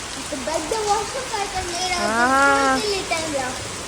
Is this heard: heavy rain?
yes